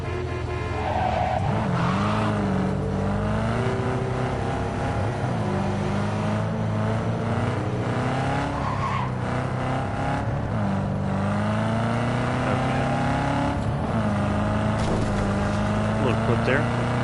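A car in Cyberpunk 2077 drives and revs continuously, its engine note rising and falling through gear shifts for about seventeen seconds, loud and close with a person talking over it.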